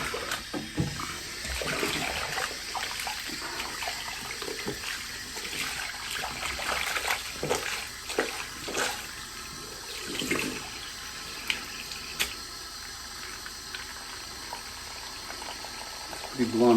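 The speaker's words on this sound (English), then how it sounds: "Just rinsing the whole lot in water." Running water splashes steadily as a batch of items is rinsed under it, with clattering handling noises and occasional louder spurts throughout, continuous and close.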